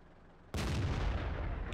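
Tank cannon blasts in World of Tanks from an M18 Hellcat, a sudden heavy boom after near silence that rolls into a dense, sustained roar.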